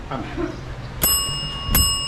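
A notification bell sound effect rings twice, each a bright, clear ding with a ringing tail, spaced under a second apart. Speech is heard just before the first ding.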